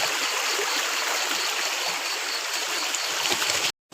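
A river in Konkan flows in a steady, dense rush of water at close range, loud and continuous without voices, cutting off abruptly near the end.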